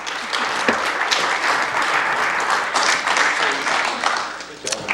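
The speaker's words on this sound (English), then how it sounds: "Could we have a round of applause?" Sustained audience applause fills a community candidate forum in Chico, California, a dense, steady wash of clapping that holds at full strength throughout with no speech over it.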